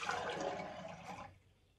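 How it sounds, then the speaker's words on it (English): Water pours from a measuring cup into a Stanley Big Grip stein mug, a short rushing splash that fills the first second and then tapers off quickly into quiet. "so I'll pour that into the mug."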